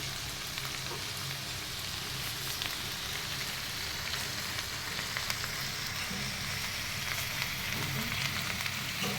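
Pirandai (adamant creeper) sautés in a pan for chutney, giving a steady, even sizzle and crackle of frying that holds constant throughout, fairly quiet, with no talking.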